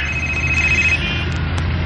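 A cellphone rings with a steady electronic tone over a low background rumble, moderately loud and continuous, with faint clicks near the end.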